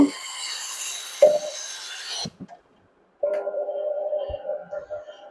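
An aluminium cutting machine is switched on with cutting oil flowing, giving a loud, steady whirring hum that cuts off into silence, then a second lower, steadier motor drone starts up a moment later.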